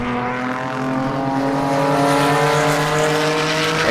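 Race cars at Sebring during a Love Bug Dash event, including a small Porsche 911, pass on the track with a loud, continuous engine drone whose pitch holds steady and swells slightly as the cars go by.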